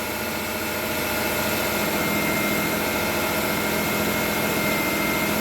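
A Kia engine with a stalling and rough-running fault idles steadily and close by, a continuous low mechanical hum with faint vibration and no speech over it.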